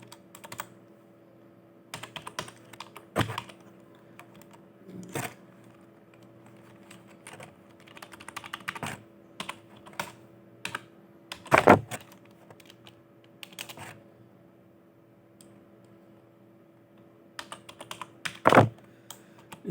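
Fingers type on a computer keyboard while text is entered into MS Excel, producing close, crisp key clicks in irregular bursts with brief pauses, alone and without any talk.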